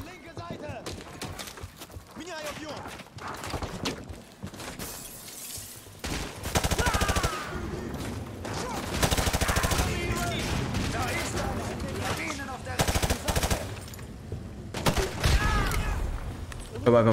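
Call of Duty: Modern Warfare 2 gunfire in irregular loud bursts and rapid volleys, with quieter gaps between them and voices talking over the action.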